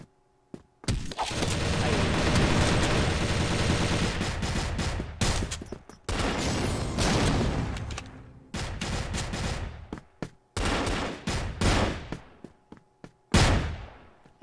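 Sustained automatic gunfire in the video game CrossFire, loud rapid bursts rattling almost continuously, broken by brief pauses and a final sharp volley, with no talk over it.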